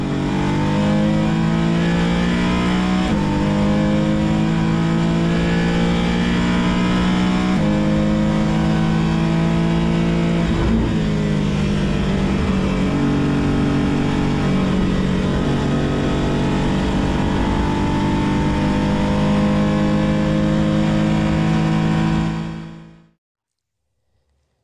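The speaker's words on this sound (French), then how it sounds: "Nous venons de quitter la voie des stands pour nous diriger à grande vitesse vers le raidillon" A race car at Spa-Francorchamps pulls away from the pit lane at high speed toward the Raidillon. The engine is loud and close, running continuously and rising in pitch through several gear changes before it cuts off abruptly near the end.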